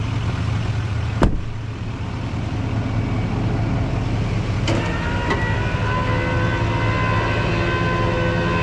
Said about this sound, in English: Rolling the window down so I can steer it as needed.